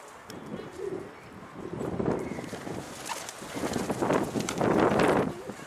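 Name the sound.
pigeons cooing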